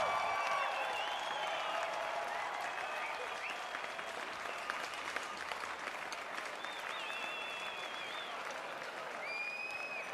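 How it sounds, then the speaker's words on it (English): Sustained applause from a large audience for the athletes at the Lausanne 2020 Winter Youth Olympic Games closing ceremony, a steady wash of clapping that fills the whole stretch, with faint voices mixed in. "Let's give applause"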